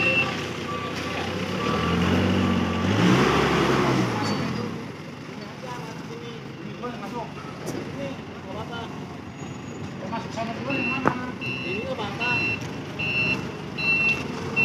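A Colt Diesel truck loaded with cabbage reverses with a steady reversing beeper sounding over a rumbling engine and road noise, while people talk nearby.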